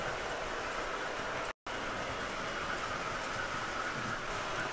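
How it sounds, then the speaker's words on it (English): A Lionel O-gauge toy steam engine, number 1309, running on a toy train layout, giving a steady dense rumble and rattle of wheels on track throughout, broken by one brief dropout, with no talk. "L is for LIONEL, steam engine 1309 here."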